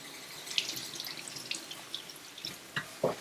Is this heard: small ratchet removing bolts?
no